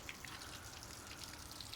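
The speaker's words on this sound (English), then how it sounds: "Water is now flowing." Water running steadily, a faint continuous hiss and trickle with a low background hum, no talking, during work on a rough Yamaha two-stroke engine.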